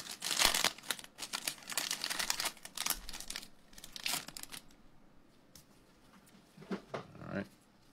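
The foil wrapper of a 2020 Topps Update baseball card pack crinkles and tears close up in dense bursts, then fades to scattered rustles, with a person talking.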